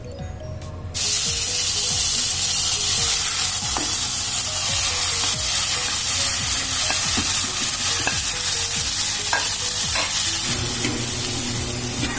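Grated mango cooking in a pan for mango murabba with sugar, giving a loud continuous sizzling hiss that starts abruptly, plus occasional light scrapes and taps of a spoon.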